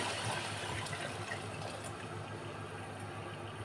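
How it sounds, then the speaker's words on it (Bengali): Water pours into a pot of roasted rice for bhuna khichuri, a steady, even rushing hiss that runs the whole time at moderate, close level with no talk. "এখন আমি দিয়ে দিচ্ছি 1 কাপ চালে 2 কাপ পরিমাণ পানি"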